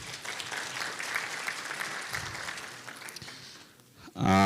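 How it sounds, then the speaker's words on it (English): An audience at the Annual Authorized Economic Operator Conference applauds the PS for gracing the occasion and presenting AEO awards; steady, fairly distant clapping runs for several seconds, then a louder burst of sound breaks in at the end. "A round of applause for the PS."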